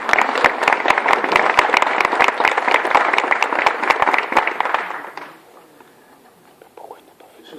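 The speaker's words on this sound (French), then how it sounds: "J'aurais bien voulu quelques petites acclamations pour ce doyen." A conference audience at a stroke symposium opening gives the dean a burst of dense clapping, lively for about five seconds before fading into quiet room noise.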